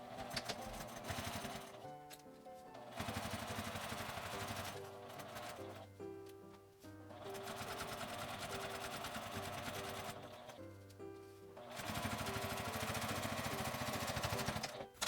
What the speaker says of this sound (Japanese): このように芯の上のところに待ち針を留めてミシンで縫い閉じます。